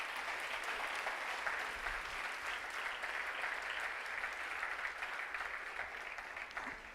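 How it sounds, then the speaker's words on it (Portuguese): A large church congregation claps steadily and continuously, a dense wash of applause filling the whole stretch without pause. "Aplauda o Senhor Jesus."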